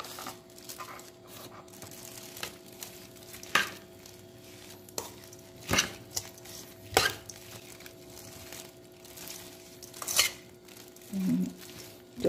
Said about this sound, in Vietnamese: Trộn đều nha các bạn.